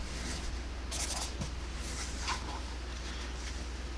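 A Sharpie marker scratches across paper in a few short bursts of squeaky strokes while signing, quiet and close over a steady low hum, with no talk.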